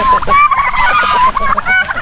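Turkeys on a backyard farm, recently fed corn, give repeated honking, gobbling calls close by, overlapping with splashy scuffling and a voice talking nearby.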